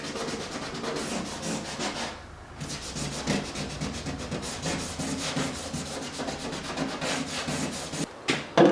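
Sandpaper scuff-sanding inside a wooden part of a PT11 boat build, a close, continuous rhythmic rasping of rapid back-and-forth strokes with one brief pause, no voices.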